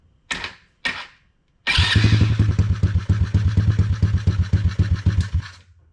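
A Chinese ATV dirt bike engine is turned over by its electric starter: two short bumps, then a sustained rhythmic cranking chug for about four seconds, close and loud, without firing.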